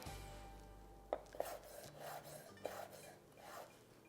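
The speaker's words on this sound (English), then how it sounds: "I'm just gonna cut them up with a knife." A knife chopping dried apricots on a board for an olive oil cake, soft repeated cuts in a steady rhythm with a few sharper knocks, close and quiet over faint background hum.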